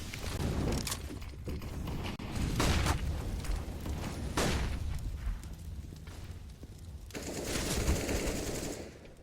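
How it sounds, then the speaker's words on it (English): Gunfire from Counter-Strike: Global Offensive, heard as rapid sprayed bursts and separate sharp shots over about nine seconds, loud and dense, with a brighter burst near the end. "Oh my goodness, Phoenix sprays them down"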